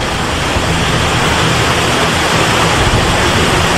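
Floodwater of an overflowing river near Seravezza rushes past, four metres above its normal level, a loud, dense, continuous roar with no pauses and no speech.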